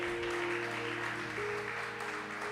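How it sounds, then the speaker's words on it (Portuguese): Congregation in a church clapping steadily, a moderate continuous patter of applause with a sustained organ or keyboard chord held underneath. "Quantos podem aplaudir ao Senhor?"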